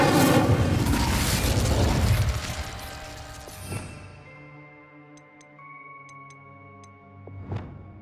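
An Incendio fire spell cast in Hogwarts Legacy bursts as a loud whooshing blaze that fades over a few seconds, leaving soft tinkling chimes and a couple of faint thumps in a quiet room.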